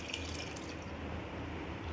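Water is poured into cooked rice in a pot while making koozh, rinsing flour stuck to the pot's side; a steady, soft, splashy rush continues for the whole stretch without speech.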